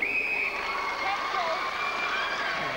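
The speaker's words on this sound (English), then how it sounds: "A moan or two from the crowd" Crowd at a 2003 Commbank Trophy netball match between Melbourne Phoenix and Melbourne Kestrels lets out a dissatisfied moan, a steady broad murmur of many voices filling the arena, with some whistle-like tones and faint chatter.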